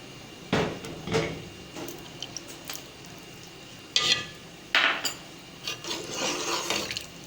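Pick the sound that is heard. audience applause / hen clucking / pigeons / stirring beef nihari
stirring beef nihari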